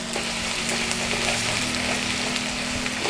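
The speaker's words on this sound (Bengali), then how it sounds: "এই যে পেঁয়াজটাকে আমরা কুক করব" Chopped onion frying steadily in a pan, a continuous close sizzle with faint crackle that stays even throughout, no voices.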